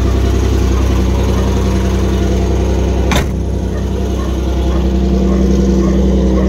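A 1954 GAZ M-20 Pobeda with a 2.9-litre engine idles steadily and close by, a smooth continuous low hum with one brief click or thump midway and no talking.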